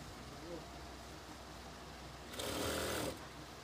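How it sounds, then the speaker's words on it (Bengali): A sewing machine stitches an old scarf into a hijab, running in one short burst of under a second late in the stretch against a low, quiet background hum. "তো আমরা এইভাবে এটাকে সেলাই করে নেব এখান থেকে"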